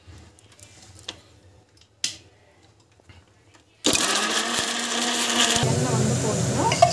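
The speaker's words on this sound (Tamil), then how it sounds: "இந்த மிக்சியில் வந்து ஃபுல்லாக அரைச்சிட்டோம்" A kitchen mixer grinder whirs loudly as it grinds ingredients for mutton gravy, starting abruptly after a few quiet clicks and knocks and running as a steady, harsh motor roar.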